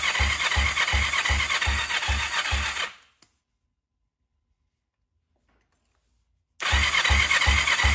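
A small low-compression engine cranks over with the throttle open, a steady rhythmic chugging of repeated compression strokes that stops abruptly, leaving a few seconds of silence before the cranking starts again.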